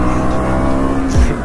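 A KTM Duke 200 motorcycle climbs through the gears on a road, its engine holding a steady buzzing note before a quick drop in pitch at a gear change near the end, close and loud.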